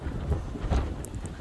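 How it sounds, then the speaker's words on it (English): Outdoor wind buffets the microphone in low, uneven rumbling gusts that thump and swell over about a second and a half, with no voice. "See, like it's windy over here"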